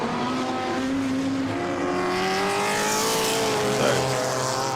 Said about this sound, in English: There's the second and third place cars.